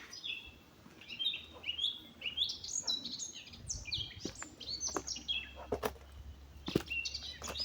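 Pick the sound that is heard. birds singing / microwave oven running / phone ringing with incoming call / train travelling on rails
birds singing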